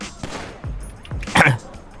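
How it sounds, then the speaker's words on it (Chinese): Gunfire rings out in the video game GTA 5 on a zombie roleplay server. Several quick, close shots crack within about two seconds. "谁又在开枪啊？"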